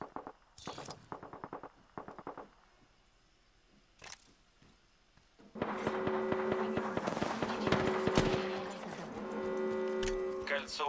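Gunfire in the video game Apex Legends: bursts of rapid shots and sharp cracks, first in short clusters and then in a dense, sustained barrage, with a voice speaking over parts of it.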